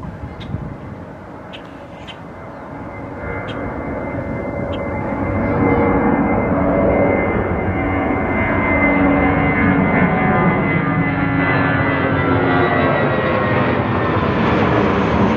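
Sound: airplane landing at Ronald Reagan Airport

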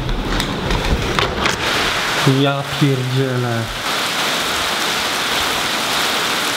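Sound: rain falling

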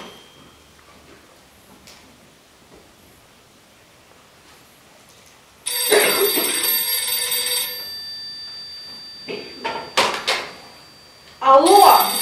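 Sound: telephone ringing in a radio play

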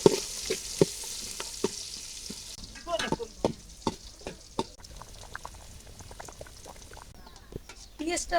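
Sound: chopped onion frying in oil, stirred, for pulao

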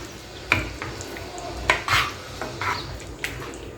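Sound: mixing mashed moong dal and jaggery in a pot

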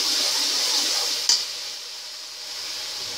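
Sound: stir-frying cauliflower masala with turmeric in pan

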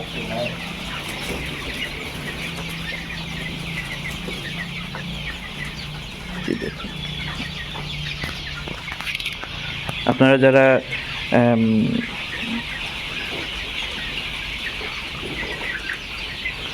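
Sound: tiger chickens clucking at a poultry farm

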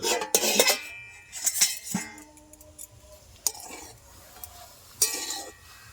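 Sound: stirring amla, ginger and turmeric in a pan

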